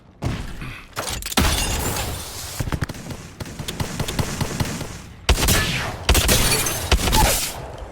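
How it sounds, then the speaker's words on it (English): Knuckle cluster fired in Apex Legends: bursts of sharp crackling, shattering explosions in several separate clusters, loud and close, with brief gaps between volleys. "Launching the knuckle cluster"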